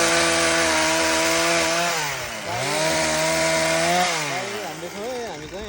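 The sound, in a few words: motorized machine running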